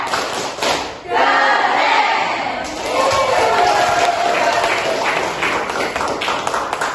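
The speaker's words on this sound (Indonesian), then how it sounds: "sekarang kita berikan tepuk hebat untuk penampilan teman kita." Schoolchildren in a classroom clap for a classmate's performance. Loud, continuous group clapping and crowd noise carry through the stretch, with chanting voices mixed in and a brief dip near the start.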